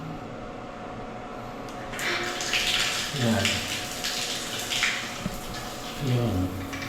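Water rushing steadily from a newly installed outlet in a subdivision house under construction, a continuous close hiss that swells a few times while someone talks over it.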